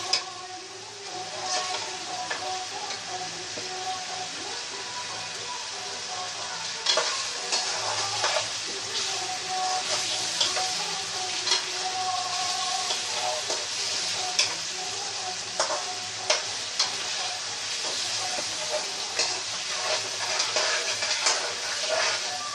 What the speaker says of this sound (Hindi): इनको थोड़ा हम तेल में फ्राई करेंगे। चूल्हा हमारा मीडियम फ्लेम पर है।